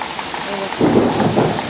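Heavy rain pours onto a house with a tiled roof over a concrete room, water dripping and running through a pipe; a steady dense hiss that swells louder partway through, with no talk.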